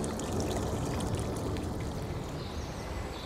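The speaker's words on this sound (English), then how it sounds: "The water's like whooshing off." Rainwater rushes off a forest hillside and pours through a channel lined with slates. A steady, loud, close whoosh of heavy flow runs throughout, with no voices.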